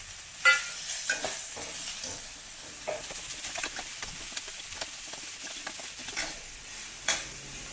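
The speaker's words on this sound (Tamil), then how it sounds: "வெங்காயம் ஒரு 2 நிமிஷம் நல்லா கோல்டன் ஆகட்டும்." Chopped onion from one large onion frying in oil over high heat, a soft steady sizzle with scattered sharp scraping stir clicks, heard close and fairly quiet with no talk.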